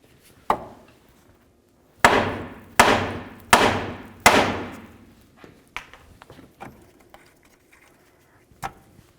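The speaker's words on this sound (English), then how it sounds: "we'll give the knuckle a couple loving bonks to break this free" A hammer strikes the steering knuckle of a 1998–2002 Honda Accord to free the outer tie rod end: four loud, ringing metallic bangs in quick succession, preceded by a lighter tap and followed by quieter clinks, close by.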